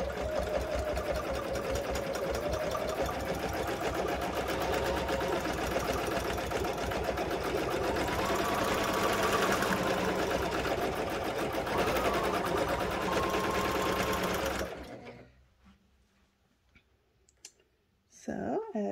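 A Babylock Jazz II sewing machine stitching on a Cutie Frame runs steadily with a fast, even mechanical clatter for about fifteen seconds, then stops, leaving faint clicks.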